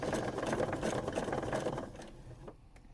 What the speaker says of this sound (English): just try and sew on top of the line you've already done